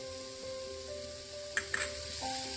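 Spice powders sauté in a pan for an eggplant curry, giving a soft, steady sizzle close by with a couple of brief stirring scrapes, no voices.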